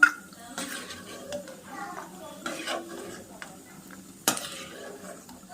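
Cashews fry in hot oil for mutton dum biryani as a spoon stirs and scrapes the pan, giving a few sharp metallic clinks over a soft sizzle while a person talks over it.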